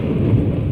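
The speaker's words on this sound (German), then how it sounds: "Fettes Gewitter, ey." A thunderstorm in the game Atom RPG lets loose a deep, loud thunder rumble that fills a brief moment, with rain-like noise beneath it.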